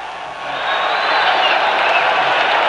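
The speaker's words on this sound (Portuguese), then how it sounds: "torcida tricolor fazendo uma festa" A packed tricolor football crowd at the Vila Capanema stadium roars and celebrates a goal. The dense, loud cheering and applause swell within the first half second and then stay steady.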